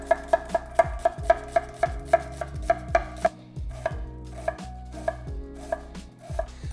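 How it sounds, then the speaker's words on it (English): A knife chops onions into a fine dice on a board, a close, crisp series of about twenty evenly spaced cuts with brief pauses, heard alone. "To make the soup, we start by chopping the onions."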